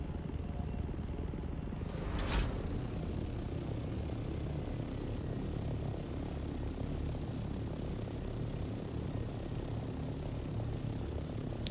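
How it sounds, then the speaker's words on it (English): Helicopter-like rotor drone in the Dune: Awakening video game, a steady low continuous engine rumble throughout with a brief whooshing pass early on. "I'm still hearing the sound of a copter"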